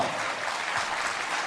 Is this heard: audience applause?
yes